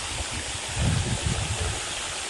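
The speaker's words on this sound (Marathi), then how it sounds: "मी आत्ता आत्ता मोटर सुरू केली आणि हे आपलं विहीर आहे हे आपलं विहिरीचं पाणी" Well water gushes steadily from an electric pump motor on a farm, a continuous rushing wash that swells slightly in the middle, close by and with no speech.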